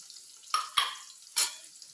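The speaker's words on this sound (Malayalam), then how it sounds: "പിന്നെ അതിൽ തന്നെ ശകലം കൊച്ചുള്ളിയും കൂടെ അങ്ങ് വറുത്തെടുക്കുവേ." Small shallots fry quietly in a pan, with soft hissing and three short stirring scrapes against a faint background.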